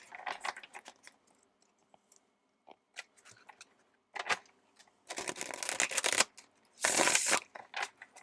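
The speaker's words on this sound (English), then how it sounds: "Let's give this a little shuffle here." A tarot deck is shuffled in a few short bursts of rustling, riffling card noise, close by, with quiet gaps between and a louder final flurry.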